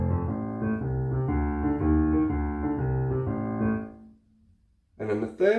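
A piano plays a left-hand blues bass pattern over F, a steady repeating low figure that stops and rings away, followed by a short burst of talking.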